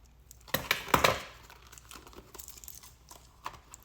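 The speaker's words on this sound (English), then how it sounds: "And then I can cut off the tape on the other side." Tape is cut and peeled off a Littlest Pet Shop toy package, giving close crinkling and snipping of plastic and tape with a couple of sharper crackles early, then lighter rustling.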